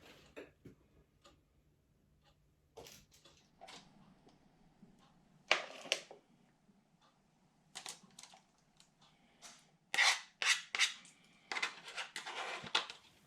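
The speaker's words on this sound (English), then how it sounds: "I'm now going to spoon my mixture into my silicone loaf tin" Cake batter for a banana, cherry and walnut loaf is spooned into a silicone loaf tin, giving soft, scattered scrapes and taps of a spoon against the bowl and tin, close and fairly quiet, with no talking.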